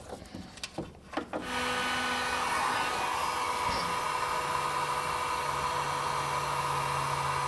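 Heat gun blowing hot air over heat-shrink tubing on a crimped ring terminal of a Curt T-connector trailer wiring harness, a steady close whooshing hiss that starts after a few handling clicks and runs on.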